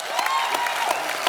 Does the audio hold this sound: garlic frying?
no